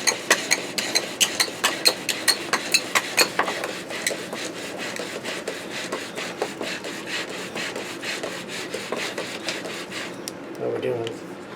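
Bow drill spindle rubbing against wood for a friction fire, a rhythmic back-and-forth rasping scrape that starts strong and regular, then continues softer and less even, with brief noises near the end.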